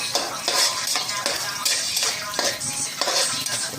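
Pork browning in a pan is stirred and mixed, with repeated scraping strokes of a utensil against the cookware in a steady rhythm over a soft sizzle.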